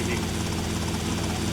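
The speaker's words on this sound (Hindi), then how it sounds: "तो इतनी गंदी हेलीकॉप्टर चला रहा है" A helicopter in GTA Vice City drones steadily with a dense, continuous rotor and engine roar that holds unchanged through the whole stretch.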